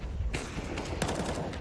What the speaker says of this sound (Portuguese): completa ali o tiro também que o Broke tinha dado.